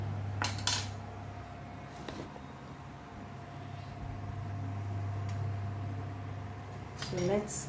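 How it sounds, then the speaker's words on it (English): Knife and fork cutting a roasted herb-and-spice beef tenderloin, giving occasional metallic clinks and scrapes at the start, middle and end over a low steady hum in a quiet kitchen. "So let's cut this however you want."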